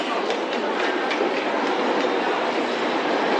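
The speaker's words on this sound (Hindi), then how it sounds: "तो ये मेट्रो आ गई, लेकिन मेरे को जाना है इस तरफ, और इधर की भी आ गई।" A Beijing metro train arrives at the station with a steady, loud rumble and rail clatter, continuous throughout and heard alone without talk.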